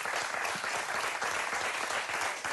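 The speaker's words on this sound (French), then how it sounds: "Mylène, on va applaudir encore." Audience applause on a French television game show, steady dense clapping at moderate volume throughout, with no voices over it.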